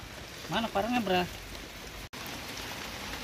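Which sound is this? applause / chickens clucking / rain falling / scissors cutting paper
rain falling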